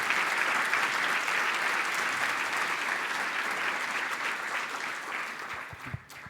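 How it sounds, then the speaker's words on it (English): Sustained applause from an audience at a startup demo day event, a thick, even roar of clapping that continues for several seconds before tapering off near the end. "A big round of applause to you guys."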